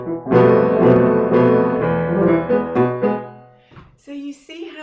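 Piano duet, a student playing simple triads while an accompanist adds fuller chords beneath, sustained notes ringing close and clear before fading into a few quieter tones.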